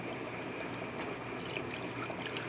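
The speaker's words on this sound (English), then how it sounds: "I'm going to add the water for my gravy" Fresh water being poured into a pan to make gravy during home cooking, a steady continuous splashing pour heard close up with no talking.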